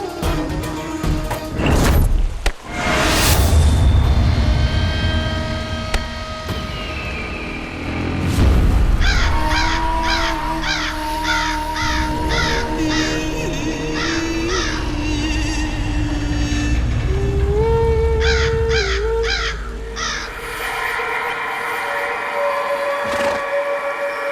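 Crows caw in repeated harsh bursts over a loud, steady rumble, with a heavy booming thud near the start.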